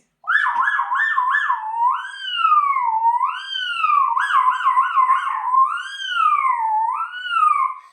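A fifth-grade boy mimics an ambulance siren with his voice, a loud, continuous wailing whoop that rises and falls in smooth repeated cycles for several seconds, with quicker warbles in between.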